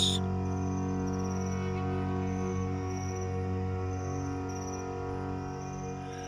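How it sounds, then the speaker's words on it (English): Steady chirping of hidden crickets fills a quiet forest night, a continuous layered drone at even loudness, with no clear rustle of leaves or trickle of a stream standing out. "The distant rustle of leaves, the chirping of hidden crickets, and the soft trickle of a stream weaving its way through the trees."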